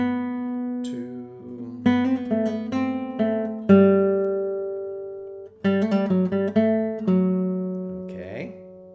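A solo classical guitar plays a short melodic passage from a Mozart Allegro, plucked notes with hammer-ons and pull-offs, close and clear, with a brief pause midway.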